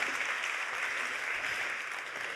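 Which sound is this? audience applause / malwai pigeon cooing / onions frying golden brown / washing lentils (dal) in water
audience applause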